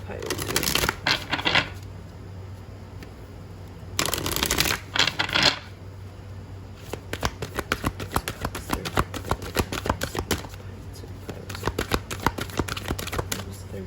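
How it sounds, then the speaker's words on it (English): Tarot cards are shuffled in two loud riffling bursts, then a long run of crisp flicks and taps follows as cards are pulled from the deck and set down, all close. "So let me pull some other cards here."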